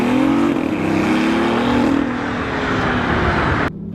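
A BMW i8 hybrid supercar with an aggressive, partly artificial engine note drones loudly and steadily, the pitch sliding slightly as it drives, before cutting off abruptly near the end.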